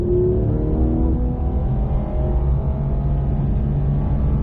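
A race car engine on a track during a driving course accelerates steadily, its droning pitch climbing as it revs hard, loud and close with no other sounds.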